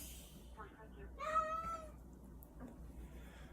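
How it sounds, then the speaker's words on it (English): Cats on a porch on a cold, snowy day give a short meow amid faint background noise, with a person talking nearby. "And some of my cats is up on my porch."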